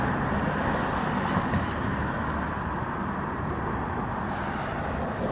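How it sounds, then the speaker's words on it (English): Steady road traffic noise beside a parked 2023 Honda PCX 160 scooter, a continuous low broadband rumble with no distinct passing vehicles, moderately loud and unbroken throughout. "Excuse the traffic noise."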